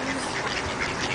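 Ducks being fed quack briefly in a close, noisy chorus, lasting only about a second.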